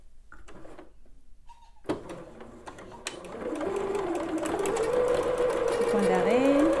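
A sewing machine stitches a 1 cm seam on a sleeveless top. A few handling knocks come first, then a steady, close whirring run builds and continues to the end. A voice speaks over the start.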